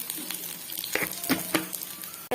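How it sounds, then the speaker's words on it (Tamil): Eggplant frying in oil over a low flame for Tamil oil brinjal kuzhambu, with salt added: a steady soft sizzle with a few brief stirring scrapes, close up and without talk. "நல்லா சிம்மில் வச்சு நல்லா வதக்கி எடுத்துக்கோங்க."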